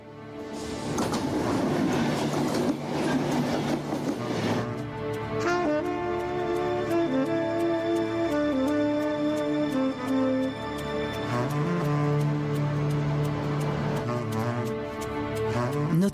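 A train rumbles steadily along the rails in Wallonia, Belgium, with a sustained mechanical drone and tonal hum, continuous and fairly loud, with no talking.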